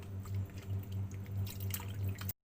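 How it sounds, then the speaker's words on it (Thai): Wild mushrooms being rinsed in a second wash of plain water, with soft close dripping and sloshing over a short stretch, fairly quiet and steady, ending abruptly. "ก็ล้างไปแล้วหนึ่งน้ำทีนี้เราก็มาล้างน้ำที่สองให้ใช้ได้แล้ว"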